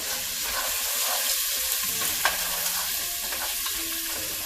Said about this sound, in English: Alright, in go the onions. We're going to let these get translucent.